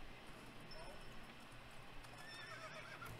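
Horse neighs with clip-clopping hooves in the online horse-riding game Star Stable, set within a steady game soundscape with faint background music.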